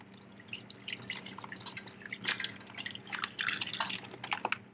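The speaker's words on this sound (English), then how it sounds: "Pour out the gross water." Dirty wash water poured out of a Scrubba MINI wash bag used for laundering socks while hiking and camping, close splashing and dripping in uneven bursts that swell and subside.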